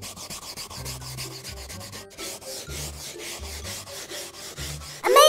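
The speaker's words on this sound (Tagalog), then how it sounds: "pwede natin siyang kuskusin." Repeated rhythmic scrubbing strokes across sofa upholstery during cleaning, a brushy rubbing rasp in steady back-and-forth bursts, close and fairly loud, ending with a brief louder burst.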